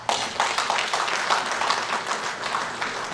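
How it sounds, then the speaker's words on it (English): A small audience at a Nigerian club induction dance claps in a brisk, moderately loud burst, individual hand claps distinct within the steady patter, continuing evenly throughout. "An applause to yourselves."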